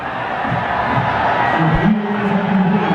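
A cricket crowd at the ground in a Nepal Premier League match, Janakpur Bolts versus Karnali Yaks, cheers and roars continuously, a dense wash of voices with a shout rising near the end.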